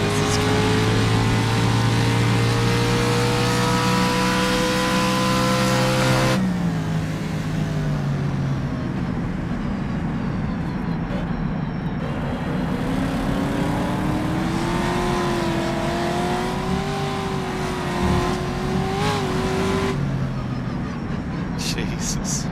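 Vintage racing cars, among them a Maserati, roar at the 1953-era Crystal Palace circuit, a loud engine note rising and falling as cars rev and pass close by, with excited commentary over the top.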